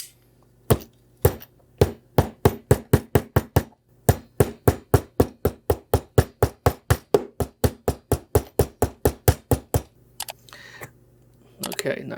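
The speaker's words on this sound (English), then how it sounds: "I'm gonna use my multi-tool here." A multi-tool works on a DIY RC tank with arms, giving a long steady run of about thirty sharp, close clicks at an even pace, then a pause and fainter handling noise.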